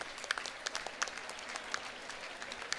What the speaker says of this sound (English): A big, big, big applause.